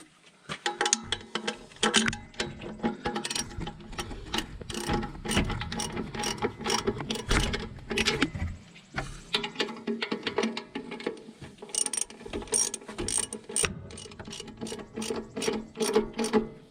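A hand ratchet clicks in rapid bursts while tightening bolts on the turbo housing of an International 4900 truck with a DT466E engine, close and fairly loud, pausing briefly midway before more clicking runs.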